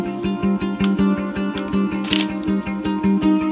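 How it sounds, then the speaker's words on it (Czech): A plastic surgeon readies a camera fitted with a 105 lens before surgery, producing a steady run of close, rapid mechanical clicks and whirring shutter-like ticks in quick rhythmic bursts. "Primář Zálešák si chystá důležitý nástroj plastického chirurga. Fotoaparát"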